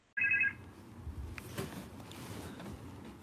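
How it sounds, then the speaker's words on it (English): A telephone ring at the start of a recorded phone call, a short loud electronic tone heard once near the beginning before the line settles into a steady low hiss. "Just listen to this phone call Alex had with Cassidy Campbell"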